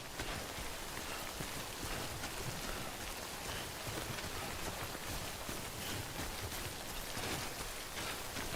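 Rain pours down in the video game Death Stranding, a dense, continuous hiss of drops on surfaces, steady and fairly quiet with no talking over it.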